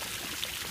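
Water from a waterfall pouring into an outdoor swimming pool at night, a steady close hiss of falling water with no voices.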